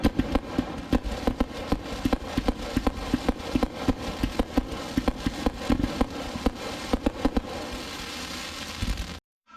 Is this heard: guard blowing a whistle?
no